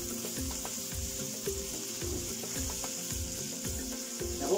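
Butter sizzling and frying steadily in a hot pan as it browns to nut-brown butter for a light lemon sole lunch, with a continuous close crackle, occasional stirring and small utensil clinks, no talking.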